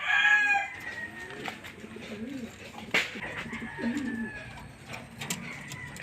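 Racing pigeons in a loft give soft, repeated cooing calls, fairly quiet and close, with a few brief rustles and a sharp knock partway through.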